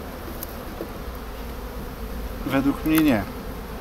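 Buckfast honey bees buzz steadily on a frame from a weak nucleus colony, a close, continuous hum with a brief louder swell near the end and a short spoken remark.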